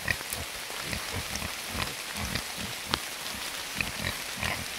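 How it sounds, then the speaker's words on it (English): A pile of pigs stirring awake outdoors, with soft grunts and snuffles repeating irregularly, close and fairly quiet, over a constant rain-like hiss. "That was a big cozy pile of pigs I just woke up"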